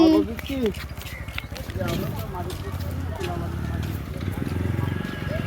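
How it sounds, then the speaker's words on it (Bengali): Several motorbikes pull up at the far edge of Chhoto Mollakhali in the Sundarbans. Their engines make a steady low drone that builds under continuous nearby talk. "দেখো আসছে সব বাইক নিয়ে"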